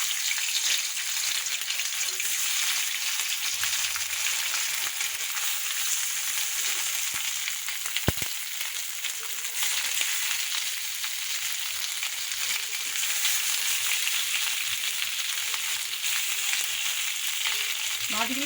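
Fish pieces fry in hot oil in a wok, giving a continuous, even sizzle and spatter close by, with one sharp click partway through.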